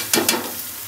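Eggplant frying in a pan, with two quick close scraping strokes at the start followed by a steady hiss of hot oil.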